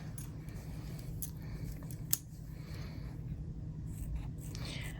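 Scissors snip apart fabric pieces for a quilt block, the soft cutting sounds faint and steady against a noisy room background, with one sharper click partway through.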